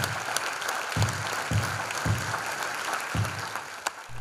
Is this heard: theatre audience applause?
yes